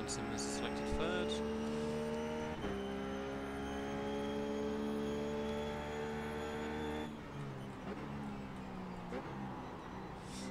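GT3 race car engine in the iRacing sim, a steady loud drone with shifting harmonic tones, a gear change partway through dropping the pitch, and faint tire noise underneath.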